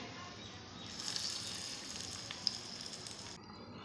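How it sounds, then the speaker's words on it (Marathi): Hot mustard seed, cumin and curry leaf tempering poured into fresh coconut chutney, giving a soft, close hiss of sizzling that rises and fades over a few seconds, quiet and alone. "तयार झालेली फोडणी आता आपण चटणीमध्ये टाकून घेऊ"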